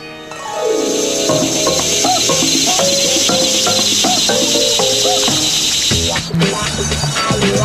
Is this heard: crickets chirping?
yes